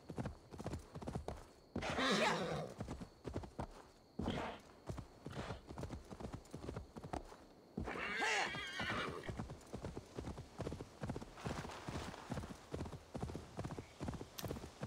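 A horse in Assassin's Creed Valhalla gallops with rapid rhythmic hoofbeats throughout, breaking into two loud whinnies along the way, with faint talk beneath.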